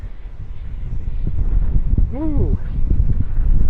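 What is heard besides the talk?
strong wind blowing outdoors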